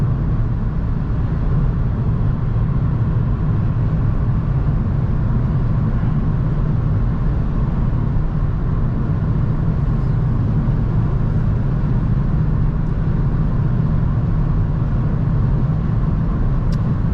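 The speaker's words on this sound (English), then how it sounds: "Yeah, the tires are pretty noisy, or is it the car itself? I think lots of road noise." A steady, loud low rumble of tire road noise inside a moving 2023 Hyundai Venue, constant throughout with no talking.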